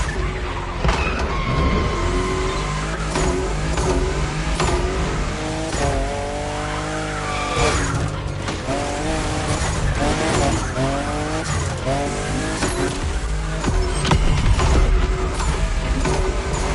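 Two cars race with engines revving hard and tires squealing through repeated skids, loud and close for over sixteen seconds, with gear changes and mechanical noise throughout.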